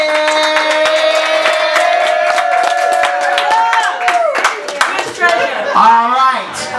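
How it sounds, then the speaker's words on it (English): An open-mic crowd clapping: sharp, scattered handclaps sound close, layered over a host speaking and a sustained tonal sound. "Clap it up for yourselves for being here tonight."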